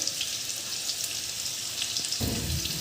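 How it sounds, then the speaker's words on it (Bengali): Potatoes fry in oil with a bright, steady sizzle, and a deeper clatter of stirring joins near the end. "এখন এদিকে আলু ভাজা হচ্ছে"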